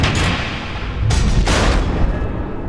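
Missile explosions from Batman: The Telltale Series rumble loudly and continuously, with heavy booming blasts and a couple of sharp bursts cracking through a dense roar.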